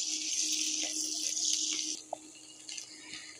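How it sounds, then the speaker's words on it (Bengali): Dried loitta shutki fish stirred and fried in a pan for a curry with jackfruit seeds, giving a steady close sizzling hiss that eases slightly partway through, with a single small clink. "শুটকিটা আমি নেড়ে ভালো করে একটু ভেজে নিব।"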